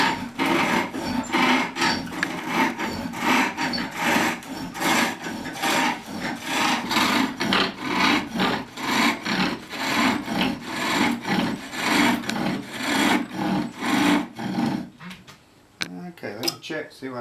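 A wooden tenon is turned on a spring pole lathe, giving a rhythmic scraping and rasping of the tool against the wood, repeated in regular back-and-forth strokes roughly twice a second, close up. The strokes stop near the end, leaving faint scattered knocks.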